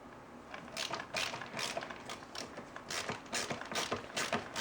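A small Snap-on ratcheting screwdriver backs a self-tapping screw out of plastic on an AK-style rifle, giving a quick run of faint, close ratchet clicks and ticks in an uneven rhythm.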